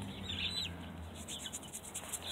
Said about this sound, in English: let's take a look at the chickens